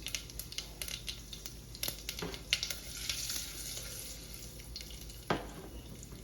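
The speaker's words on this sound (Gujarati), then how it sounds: "અને ડુંગળીનો વઘાર કરશું." Onion tempering sizzles in hot oil with urad dal, fenugreek, hing, red chilli and curry leaves, a steady bright crackle broken by sharp pops and occasional clinks of stirring, fairly faint and up close.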